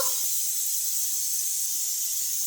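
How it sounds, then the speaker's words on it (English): Steam hisses steadily from a Ninja Foodi 15-in-1 pressure cooker during its automatic pressure release, a continuous bright rush that holds level throughout with no talking. "That's the steam coming out of it now."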